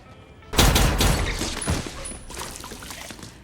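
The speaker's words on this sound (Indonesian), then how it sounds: "Dutch langsung melepaskan tembakan yang memecahkan beberapa botol alkohol" In an action film scene, a sudden burst of gunfire shatters bottles of alcohol in a minimarket: a loud blast followed by rapid shots and tinkling, splashing glass debris that fades away.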